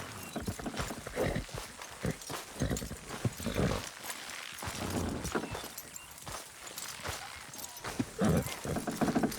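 Horse hooves clip-clop busily in Red Dead Redemption 2, with overlapping hoofbeats over a dense background of ambient noise and movement.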